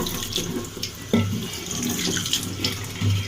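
Running tap water splashes steadily into a sink while a flower vase is washed, a continuous close rush with brief surges of splashing and no voices.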